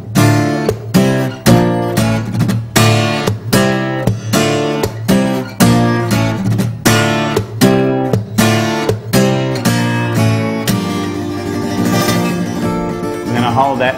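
An instructional guitar part, a loud close acoustic pattern of punchy accented strums and muted chops in a driving rhythm, ending in a sustained ringing chord with a faint voice at the end.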